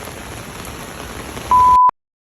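Heavy rain falls in a steady, dense hiss close to the microphone, then a brief loud electronic beep cuts in before the sound drops to near silence.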